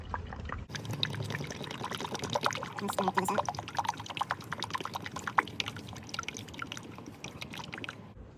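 Motor oil pours from a big can through a funnel into the engine of a 2005 Ford F150, a steady glugging trickle with splashes that runs near and continuous for several seconds.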